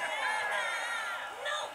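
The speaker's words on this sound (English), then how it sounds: "And now they're cheering like it's really a wrestling match." A crowd cheering in an anime wrestling-style fight: a mass of raised voices whooping and shouting together, fairly distant and sustained, with a brief dip before swelling again; a voice talks over it.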